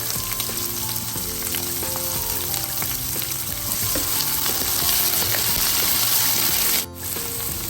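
Onions and green chillies fry in hot oil with a steady, dense sizzle and crackle that runs throughout, with faint stirring clinks and a brief dip near the end.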